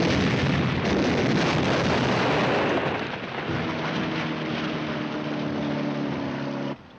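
A tank gun from a 1951 war film fires a round with a loud, sustained blast and rolling rumble, which gives way to a droning engine hum before cutting off.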